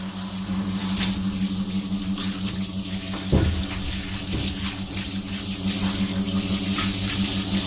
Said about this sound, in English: This is just a final rinse.